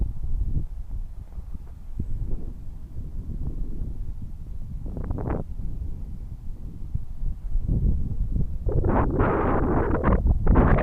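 Steady wind buffets an outdoor microphone at an RC plane flying field, a continuous low rumble that swells into stronger gusts toward the end, with no voices.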